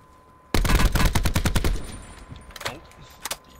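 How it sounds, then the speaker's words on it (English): Rapid burst of gunfire in Call of Duty: Blackout, a loud close string of sharp shots followed by a few scattered single shots further off. "Oh, yeah, shots to your left."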